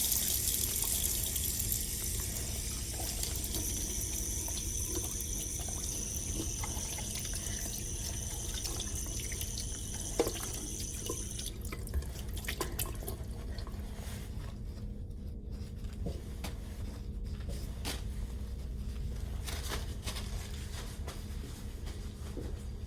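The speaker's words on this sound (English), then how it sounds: "I'm gonna go ahead and wash my hands" Water runs steadily from a tap as hands are washed in a clinical practice room, a continuous hiss with faint splashes and small knocks throughout.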